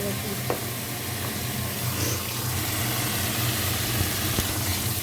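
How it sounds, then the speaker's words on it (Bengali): Sliced potatoes for a Bengali aloo chorchori hit hot oil in a frying pan, giving a steady, close sizzle that runs through the whole stretch, with a low hum underneath and a couple of faint clinks. "আলু ঝিরচুরি তো আলু এটা ছেড়ে নেওয়া যাক"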